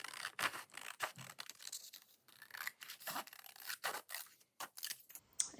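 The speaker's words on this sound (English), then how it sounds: "we cut a little bit inside of that pencil line" Scissors cut paper a little inside a traced pencil line while making an envelope journal, producing a close, quiet run of crisp snipping and rustling strokes at an uneven rhythm, with no talk.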